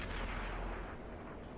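Tank gun firing in a tank video game: a single deep boom that rolls out and fades over about a second, heard alone without speech.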